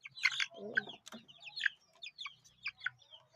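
Chickens and a rooster call close by outdoors, with sharp clucks and chirps and a short, rough crowing phrase in uneven bursts. Someone talks briefly among the calls.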